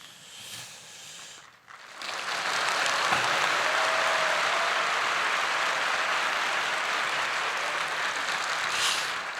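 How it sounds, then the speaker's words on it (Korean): A church congregation at a large evening thanksgiving worship service bursts into sustained applause after a short lull, a dense, even roar of many hands clapping that holds steady for several seconds, heard from a moderate distance. "오늘 제일 큰 박수 소리 들었습니다."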